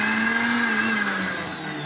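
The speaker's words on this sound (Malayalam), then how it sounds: "മിക്സിയിലിട്ടൊന്ന് നല്ലപോലെ ബ്ലൈൻഡ് ചെയ്ത് കൊടുക്കുക." A kitchen mixer grinder blends cooked jackfruit into a paste with no water added. Its motor whirs loud and steady, and the pitch sags slightly toward the end. No voices are heard.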